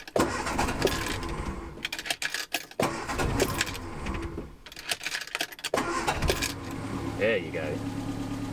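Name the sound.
Ford Anglia engine starting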